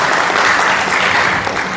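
A crowd at a sales and closing-skills seminar gives a burst of loud, thick applause, many hands clapping at once in a dense, steady roar with no speech over it.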